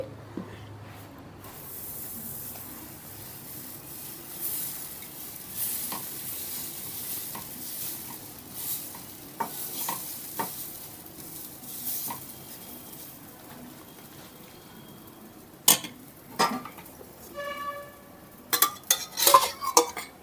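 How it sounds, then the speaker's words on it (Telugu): Urad dal dosa batter hisses and sizzles steadily on a hot pan as it is spread, with occasional scraping and clinks of utensils growing busier toward the end. "ఇప్పుడు మనం దోశ వేసేసుకుందాం పెన్నెం కూడా వేడైపోయింది"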